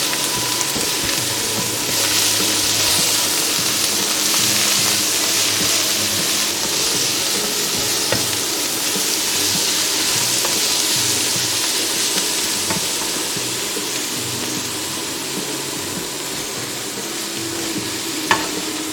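Coriander and salt fry in a pan, a steady loud sizzle with faint stirring scrapes that runs unbroken throughout, with no voices over it.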